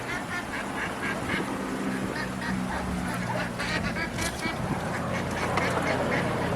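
Ducks quacking around a backyard pond where free-range ducks are fed, repeated nasal quacks and honk-like calls from several birds over a steady background hiss, some calls close and others farther off.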